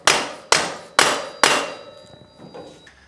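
A rubber mallet taps the axle of a 2005 Honda CRF450-R dirt bike, giving four sharp, ringing knocks at a steady pace. They fade into a few fainter taps, with no talk.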